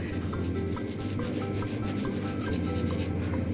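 Hands rubbing a seasoning mix into raw pork ribs, a continuous soft scuffing and rubbing texture with slight repeated strokes, close and fairly quiet.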